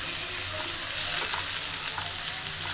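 Green chillies and curry leaves sauté in a pan with soya chunks for a curry, giving a steady, close frying sizzle and hiss that holds evenly throughout with no speech.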